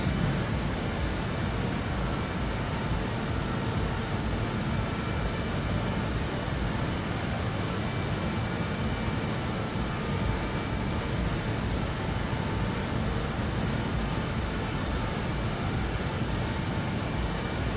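Steady, broadband engine and airflow roar inside the cockpit of a BAe-146 jet in flight, a constant loud drone with no breaks and no speech.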